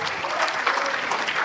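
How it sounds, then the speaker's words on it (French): An audience at a mayor's New Year address in Lattes breaks into a short, dense burst of applause that fills the hall loudly from start to finish. "vous pouvez l'applaudir"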